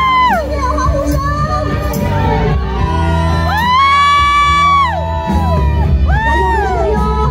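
Cheering crowd at a temple festival stage performance in Tainan, repeated long high whoops and shouts swelling in waves over a constant loud din of voices.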